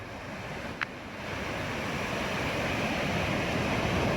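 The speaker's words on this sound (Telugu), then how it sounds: "రాత్రులు అలలు ఎక్కువగా ఉంటాయి" Ocean waves roll in at Suryalanka beach at night, forming a continuous, even roar of surf that swells slightly louder partway through, with no voices.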